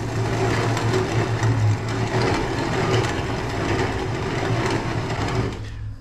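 A coffee grinder grinds chicken feed for young chicks on a homestead. It gives a continuous, loud mechanical whirring and rattling hum that holds steady for several seconds and then cuts off near the end.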